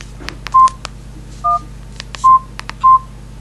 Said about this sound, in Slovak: Tón tlačidel buď stlmiť alebo pipnutie.